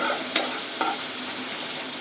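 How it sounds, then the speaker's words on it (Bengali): Butter turns to ghee in a pan with a steady, close sizzle and bubbling hiss, broken by two brief spoon scrapes or clinks, no voices. "আর কিছুক্ষণ ভাজলেই কিন্তু এটা পুরোপুরি ঘি হয়ে যাবে"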